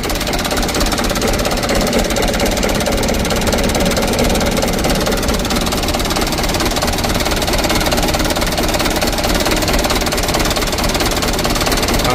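A Mitsubishi Canter truck engine runs with a fault that makes the revs slow to drop, giving a loud, constant, rough mechanical drone with a knocking rattle that holds unchanged throughout.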